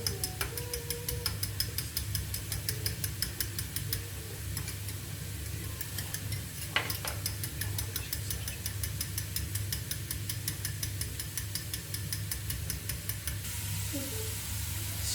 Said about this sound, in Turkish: Hemen çırpıyorum yumurtam orada kızarırken